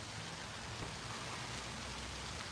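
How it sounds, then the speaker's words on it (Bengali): Steady, even hiss of heavy rain falling around a tree where someone is sheltering, a soft continuous wash with no breaks and no voices. "আমি এখন অপেক্ষা করতেছি কখন বৃষ্টিটা কমবে"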